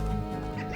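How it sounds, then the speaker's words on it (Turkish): Short burst of chicken clucking in the video game Slime Rancher with a steady low background hum, no talking. "Böyle tavuk var."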